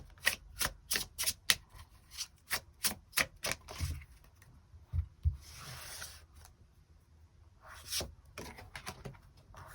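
Tarot cards riffle and snap in a quick series of crisp taps, followed by softer sliding and rubbing as cards are drawn and laid down, close and clear.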